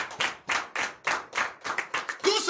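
A church congregation at morning prayer in Comè, Benin claps rhythmically, about ten even claps in a steady beat, fairly close, ending in a brief burst of louder applause.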